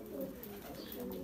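Pigeons coo softly in low, rolling murmurs, faint against quiet background noise.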